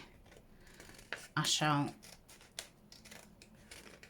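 Scissors snip through folded paper while crafting notebook ephemera, with a few soft, close cuts and rustles that fall under and between a quiet voice.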